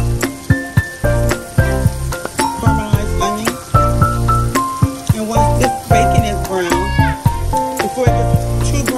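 Bacon and caramelized onion cooking in a pan, a loud continuous sizzle and crackle with rhythmic scraping strokes and pan knocks throughout, close up, with music playing over it.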